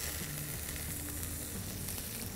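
Bitter gourd, taken from buttermilk, poured into a pan of hot tempering, giving a steady, close, continuous sizzle and frying hiss with no talking.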